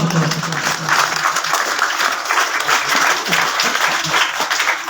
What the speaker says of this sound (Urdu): تالیاں ہو جائیں.